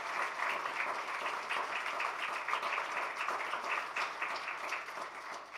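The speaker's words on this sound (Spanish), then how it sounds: "¿Por qué no le da un aplauso a Él?" A church congregation applauds steadily for several seconds, a dense, even patter of many hands clapping at a moderate distance, with faint voices mixed in.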